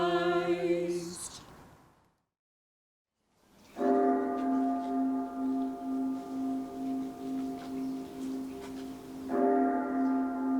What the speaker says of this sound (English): Nothing Scrooge could say or do could stop the relentless march of those terrible bells.